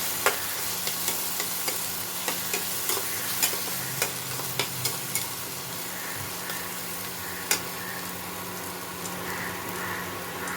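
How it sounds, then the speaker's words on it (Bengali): Poppy seed and green chilli paste frying in a pan for a posto dish, giving a steady soft sizzle with repeated scraping clicks from stirring, close and alone with no talk. "পোস্তটা ভাজা হয়ে গেছে"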